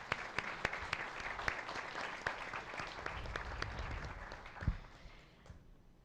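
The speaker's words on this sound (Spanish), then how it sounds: "la maestra Beatriz Adriana Camacho Carrasco, a quien de nuevo brindamos un aplauso y agradecemos por estar aquí" Applause from a conference audience fills a hall, faint and steady, with sharper individual claps standing out. It dies away at the end.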